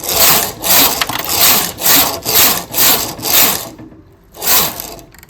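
A domestic knitting machine carriage sweeping back and forth across its needle bed, knitting eight rows: six loud, rhythmic raspy passes roughly every 0.6 seconds, a short pause, then another pass, close up with no talking.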